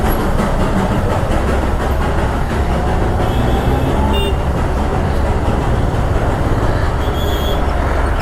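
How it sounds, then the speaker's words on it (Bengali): Darjeeling toy train steam engine rolling past on the mountain line, a continuous loud rumble of wheels and chuffing close by, with brief high squeals or a faint whistle near the middle and end. "ওই দেখো একটা স্টিম ইঞ্জিন যাচ্ছে, কি ব্যাপক লাগছে, ধোয়া ছাড়তে ছাড়তে স্টিম ইঞ্জিনটা যাচ্ছে"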